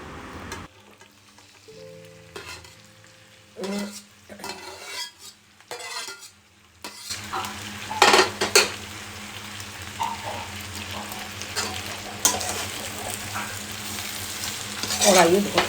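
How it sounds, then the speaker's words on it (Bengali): Pre-fried chicken, onion and capsicum tossed into a hot kadai for chilli chicken: a few quiet clinks at first, then a loud, close, crackling sizzle with repeated spatula scrapes and stirring strokes. "এবার আমি পুরো ওই চিকেনটা আর পেঁয়াজ ক্যাপসিকাম এগুলো ভেজে রেখেছিলাম সেগুলো সব এই কড়াইয়ের মধ্যে দিয়ে দেবো"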